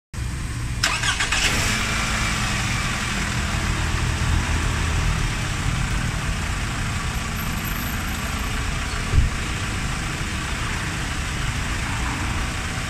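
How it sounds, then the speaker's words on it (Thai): A car engine cranks and starts, then settles into a steady idle that runs on evenly for several seconds, close by. "เดี๋ยวมาฟังเสียงเครื่องกันดีกว่านะครับ"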